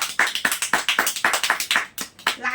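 Children clap their hands in quick, loud, close bursts, about a dozen sharp claps in an uneven rhythm that break off briefly before a few more.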